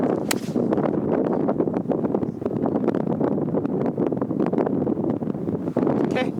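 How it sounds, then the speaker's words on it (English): Strong wind of around 20 miles per hour on a golf course, loud continuous gusty rumble and buffeting against the microphone, filling the whole stretch. "There's gotta be like 20-mile-an-hour winds right now"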